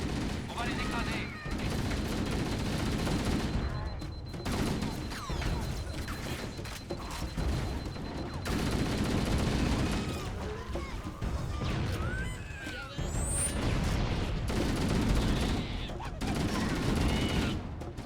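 Gunfire in the game Halo: Combat Evolved, rapid bursts and crashing shots with explosions scattered across the scene, punctuated by brief pauses, while in-game voices speak over the action.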